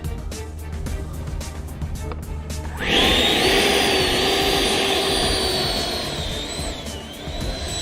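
A model jet aircraft's turbine, roughly 64 mm, spools up abruptly into a loud, steady high-pitched whine with a rising and wavering tone during take-off, close by and continuing for several seconds.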